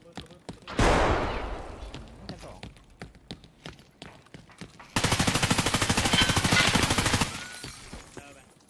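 Gunfire in Escape from Tarkov in a dormitory area: a loud initial blast, then scattered single shots and footstep-like taps, followed by a sustained rapid automatic burst lasting about two seconds.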